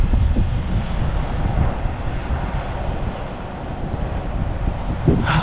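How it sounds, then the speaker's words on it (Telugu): Turning wind turbine blades on a wind farm give a steady, broad whooshing roar that fills the air without a break, heavy with wind buffeting, and no voices are heard. "ఇంకో ఈ విండ్ మిల్ తిరుగుతుంది ఇక్కడ"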